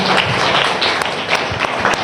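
A church congregation at a Sunday service claps together, a dense, loud patter of many hands sustained throughout with irregular sharper bursts.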